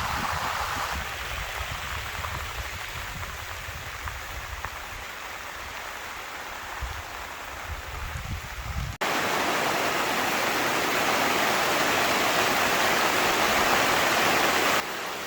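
Heavy rain pours down steadily, a dense hiss of drops drumming on surfaces, growing louder and fuller partway through.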